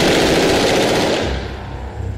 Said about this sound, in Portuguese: O policial atira com 3 armas.